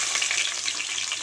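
Onions frying in a pan for a besan dish, a loud, dense, continuous sizzle up close with no pauses.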